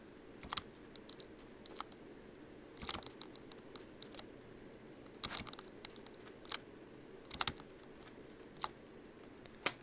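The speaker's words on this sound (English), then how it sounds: "hold my mic real close to my keyboard here so you can hear me tap W" Quiet, close, irregular clicks and taps of a computer keyboard key being pressed repeatedly during Minecraft play, sharp isolated strikes with soft background hiss.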